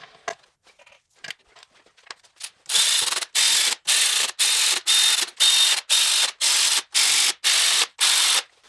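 Ratchet tightening valve cover bolts on a Mazda Miata engine, first a few faint scattered clicks, then a loud, steady run of about eleven even ratcheting strokes close up, with no talking.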